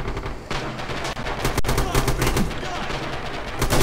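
Rapid automatic gunfire from a multiplayer shooter video game, sustained and loud throughout with dense bursts and a sharp crack near the middle.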